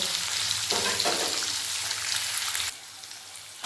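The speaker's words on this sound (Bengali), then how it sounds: "পনিরগুলো একদম হালকা করে ভেজে নেব" Paneer pieces fry lightly in salted oil with a steady, dense sizzle that drops to a softer hiss near the end, close and continuous with no talking.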